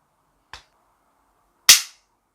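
Two sharp metallic clicks from the hammer of a Denix replica Colt 1873 Single Action Army revolver dry-firing, a light tick followed about a second later by a louder, brighter snap, close and isolated with no talking.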